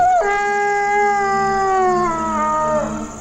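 A dog gives a long, loud, mournful howl close by, the tone sliding slightly as it holds for about three seconds before fading, with no voices.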